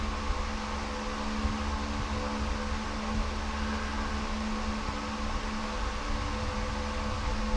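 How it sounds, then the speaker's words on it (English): A ventilation fan runs in a garage beside a tuned Camaro, producing a steady loud whooshing drone with a constant hum, unchanging and alone throughout. "Sorry about the fan noise, but if I don't have that thing running, this car just fumes up the garage."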